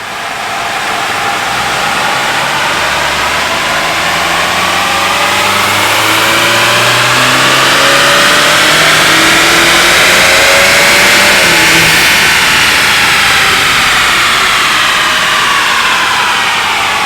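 Big-turbo 10th-generation Honda Accord tuned on ethanol E85, revving hard on a dyno: a loud, close engine roar that climbs steadily in pitch through a long pull with turbo whine, then eases slightly near the end.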